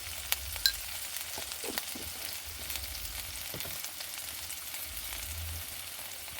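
Potato curry frying in a pan after chili powder goes in, a steady close sizzle with occasional soft stirring scrapes and clicks, no talk.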